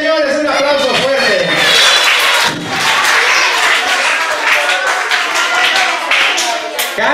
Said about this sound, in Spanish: Sí, señores, un aplauso fuerte.